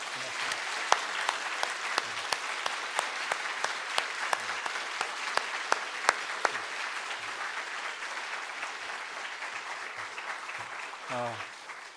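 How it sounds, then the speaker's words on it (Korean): Sparse applause from a congregation in a Korean church during an evening revival service, heard as scattered, fairly faint claps spread over about twelve seconds with a soft murmur underneath. "우리 박수 한번 하겠습니다."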